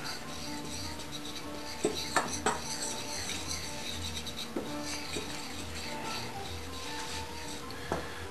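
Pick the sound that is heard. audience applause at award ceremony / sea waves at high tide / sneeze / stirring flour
stirring flour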